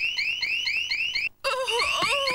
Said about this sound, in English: The whole house is now a network of super-sensitive photoelectric beams.